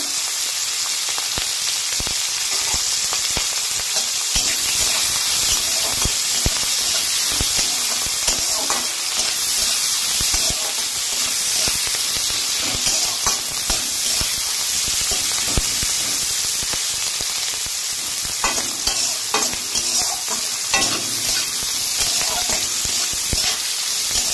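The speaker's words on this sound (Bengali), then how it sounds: "কাঁচা লঙ্কা আর কারি পাতা দিয়ে ভাজা করছি।" Onion, green chili and curry leaves sizzle and crackle steadily in hot oil in a home kitchen pan, with occasional stirring scrapes and a voice speaking now and then over the frying.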